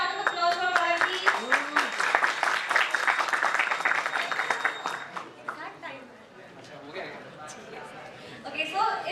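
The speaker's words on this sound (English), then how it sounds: "Let's have a huge round of applause for Pawan, please." An audience at DevFest Indore 2023, an AI/ML tech conference, claps for speaker Pawan: a burst of applause with chatter and voices through it, fading after several seconds into quieter talk.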